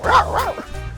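A man imitates a dog, giving a couple of yipping, bow-wow style barks with a whine in between, loud and close, during a stand-up comedy show.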